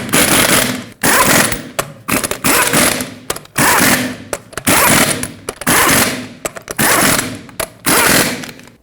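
Impact wrench tightening the eight lug nuts on a Ford F-350 rear wheel, loud close rattling bursts, about nine in a row separated by short pauses.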